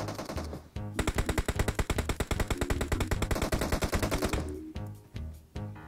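Rapid automatic gunfire in the PUBG Mobile shooter game, loud and close, with a long sustained burst of evenly spaced shots followed by a few scattered single shots, no talking.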